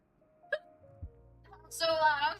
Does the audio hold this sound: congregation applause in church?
no